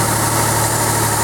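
A Nissan Xterra 4x4 engine idles steadily and close by, a constant even rumble with no voices over it.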